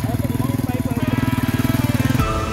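A modified Bajaj Pulsar 220 engine revs hard and close during a wheelie stunt, a loud pulsing throb that holds steady for about two seconds before the throttle is cut and it drops to idle.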